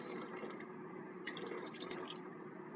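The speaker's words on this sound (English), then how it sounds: "First I'm going to pour some water off so I don't make a huge mess." Water pours off from a bucket in a steady, faint splashing stream. A brighter trickle joins partway through, and no one speaks.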